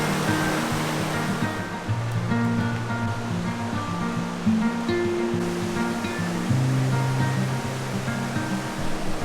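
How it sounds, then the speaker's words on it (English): Steady rushing of running water near caves outside San Cristobal de las Casas in Mexico, a continuous broad wash heard close and fairly loud with no break, mixed with faint low tones and no speech. "the caves that we're about to go in and the running water"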